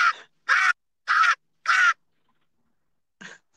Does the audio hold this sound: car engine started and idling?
no